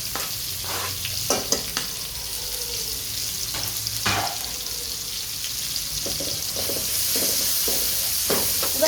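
Chopped onions stirred and frying in a pan with a bay leaf while cooking paneer gravy: a steady close sizzle with repeated scraping stir strokes, growing a little louder toward the end.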